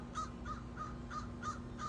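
Raven calls in Spokane, Washington: six evenly spaced harsh caws over two seconds, moderately close, with a steady low hum running underneath.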